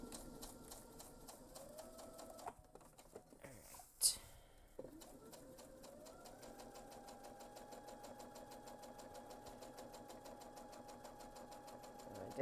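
A sewing machine stitches a backpack seam in two quiet runs, a steady mechanical whirring that pauses briefly with a click before resuming, faint and close.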